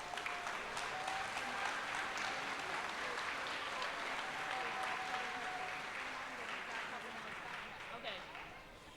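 An award ceremony crowd gives a sustained round of applause for the winners, dense even clapping that holds steady for several seconds and then thins slightly toward the end.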